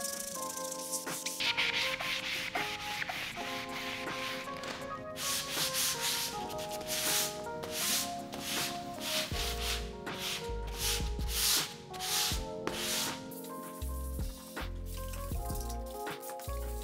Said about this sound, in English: So I'm gonna go ahead and start the sanding